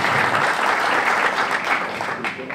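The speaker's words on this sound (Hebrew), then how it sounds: "תחזירו לי מחיאות כפיים שאני אדע את זה" An audience claps at a twentieth-anniversary event for a Toyota garage in Acre, steady, full applause from a crowd that thins slightly toward the end.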